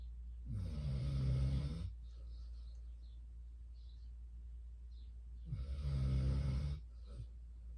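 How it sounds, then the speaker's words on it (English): Sprocket, a blind dog, snores loudly in two long, deep rasping breaths separated by a quiet pause, heard close and alone. "I know you guys find it kind of soothing, Sprocket snoring"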